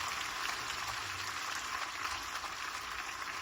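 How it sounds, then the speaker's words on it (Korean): A congregation claps together during an Easter Sunday church service, a steady, dense wash of applause that stays fairly faint and even throughout, with no voices over it. "또 앞에서 미리 또 찬양으로 예배를 시작해 준 청년부 찬양팀 우리 박수하겠습니다"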